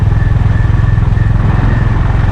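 A motorcycle rides along a hilly road near a Vagamon resort, its engine putting out a loud, steady low throb with rapid rhythmic pulsing close to the microphone.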